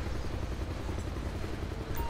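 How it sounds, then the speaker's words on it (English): A video game helicopter in a police patrol game, a continuous low rotor rumble with thumping texture, steady and close over the whole moment. "Helicopter."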